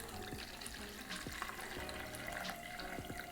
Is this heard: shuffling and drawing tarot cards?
no